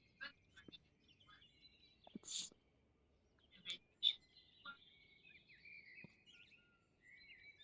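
A pet bird chirps indoors in a quiet room, giving scattered thin tweets and a few brief whistled calls at low volume, with soft rustles and faint breathy sounds between.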